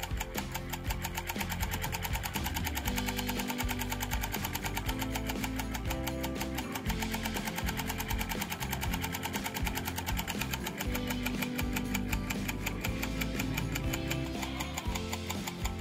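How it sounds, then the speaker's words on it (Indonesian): The small engine of a paddy-field tractor used to pump river water runs close and loud for the whole stretch, with a fast, even, ticking chug as it is revved to warm up. "Kita gas-gas dulu mesinnya supaya mesinnya cepat panas"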